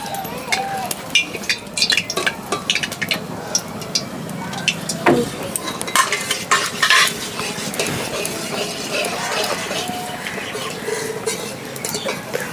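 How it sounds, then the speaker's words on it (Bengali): Bay leaf, cardamom, cloves and cinnamon sizzling in hot oil while a utensil scrapes and clatters against the pan in irregular stirring strokes, close and fairly loud. "তো তেল গরম হয়ে গেছে, এখন এর মধ্যে দিয়ে দেবো তেজপাতা, এলাচ, লবঙ্গ"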